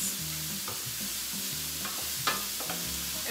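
Celery sautés over medium heat in a pan for a chicken pot pie, giving a steady soft sizzle with light stirring scrapes. A low rhythmic background tone runs underneath, with no speech.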